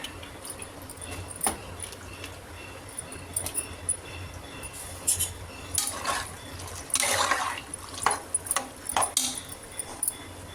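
Water poured into a pressure cooker pot of chickpea and eggplant curry, splashing bursts that come and go, loudest near the middle, with metallic clinks of the pot and spoon in between.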